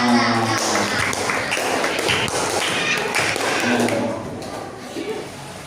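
Classroom students clapping, an uneven patter of hand claps fairly close and loud for about four seconds, then thinning out and fading.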